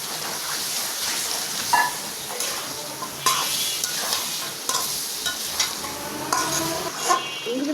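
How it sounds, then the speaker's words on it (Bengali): Country chicken meat sizzles and fries in a pan with potatoes being added, a steady close sizzle broken by repeated scrapes and clinks of a spatula stirring. "কষানো হয়েছে মাংসগুলো দিয়ে দিই"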